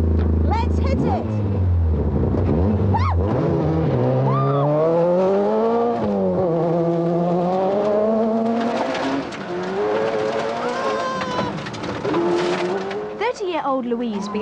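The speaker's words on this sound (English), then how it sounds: "she's going to show me exactly what rallying is all about. Woo! OK, Louise, let's hit it!" A 1990 rally car driven hard at speed, its engine loud and close as it revs up and down through the gears, with tyres squealing and skidding between shifts and a voice whooping over the noise.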